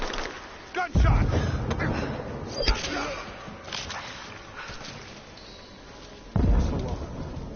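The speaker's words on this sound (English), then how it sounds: "Gunshot!" Gunfire in the video game Rise of the Tomb Raider, with sharp booming shots and thuds among combat noise, a loud hit near the start and another near the end, while voices talk.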